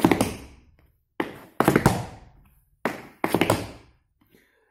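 Tap shoes strike the floor in short clusters of toe and heel taps, three bursts of crisp clicks and thuds separated by brief pauses, close and alone.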